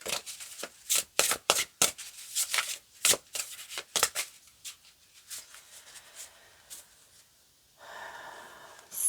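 A deck of tarot cards being cut and shuffled: a quick run of crisp, close riffling bursts that thin into lighter flicks, then a soft steady rustle at the end, with no talking.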